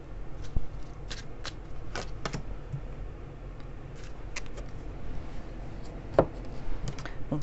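Lenormand cards being shuffled and drawn by hand, heard as soft riffling bursts and scattered crisp card snaps close by, with no talking.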